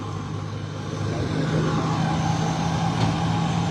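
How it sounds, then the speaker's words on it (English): A tow truck's engine rumbles steadily at the roadside scene along Beach Road by the lagoon where a Corolla went in, a continuous mid-pitched idle with no voices over it. "Got the tow truck here."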